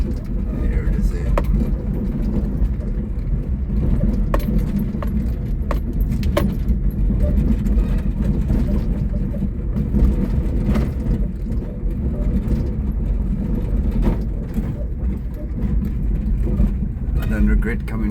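A small Suzuki Super Carry truck drives along a road near the Orange River, its engine droning steadily with rattling and jangling from the cab throughout, fairly loud and close.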